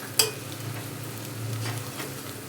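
Spices with salt and turmeric sautéing in a pan over low heat, a faint steady sizzle with a brief stirring clatter near the start.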